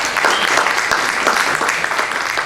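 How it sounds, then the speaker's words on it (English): A room full of people at a health program about multiple sclerosis gives a round of applause, loud, close and continuous clapping with no pause. "Give them a round of applause"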